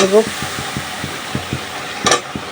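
A ginger, garlic and cumin masala being stir-fried in a pan, with a steady sizzle and repeated rhythmic scrapes of a spoon against the metal, close and clear, with a brief voice at the start.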